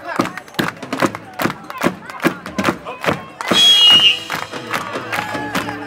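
A live hip-hop show crowd in Kansas City clapping along in a steady rhythm, sharp regular claps with shouts and cheering rising midway, loud and close.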